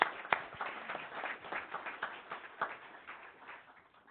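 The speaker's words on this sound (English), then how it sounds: "Let's give them a round of applause for their presentation." Scattered, modest applause from a small audience at a Turlock city council meeting: steady, fairly faint clapping with a few sharper individual claps, tapering off toward the end.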